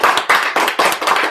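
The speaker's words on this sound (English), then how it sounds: "so let's give Jay a round of applause" A live audience at a mastermind event claps for Jay, with dense, continuous applause swelling in short waves, loud and close throughout.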